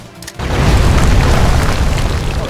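A grenade explodes in the sci-fi strategy game Age of Wonders: Planetfall: a sudden loud boom breaks a brief quiet, then a heavy, rumbling blast wash holds steady to the end.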